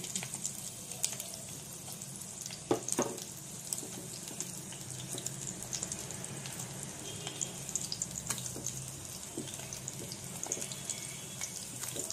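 Fish egg fritters frying in oil, a quiet, continuous bubbling sizzle with occasional soft clicks and pops, no talking.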